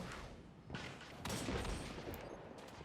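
Shotgun blasts in the video game Destiny 2, a few sharp booming shots spread across a busy stretch of game sound, fairly loud with no talking over them.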